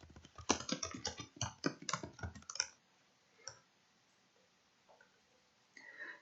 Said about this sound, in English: In this case, let's type Kelly Thompson.